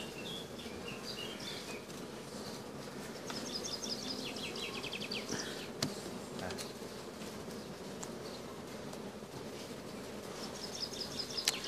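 Honeybees drone at an opened hive during a frame inspection, a steady faint buzz with scattered higher insect whines and small knocks, no talking heard.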